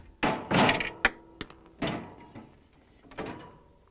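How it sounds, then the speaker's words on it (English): The lower drawer of a Whirlpool, KitchenAid or Maytag refrigerator is worked free and pulled out, giving several close plastic thunks, knocks and sliding scrapes at an uneven pace over a quiet room. "We're going to pull out the drawer"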